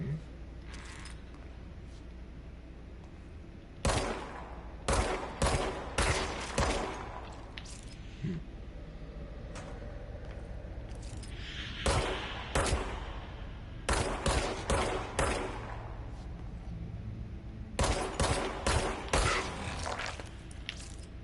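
Rapid bursts of automatic gunfire from a spinning-barrel weapon with a rate-of-fire boost in the video game Control, several sharp clattering volleys separated by short lulls, loud and close over a low ambient hum.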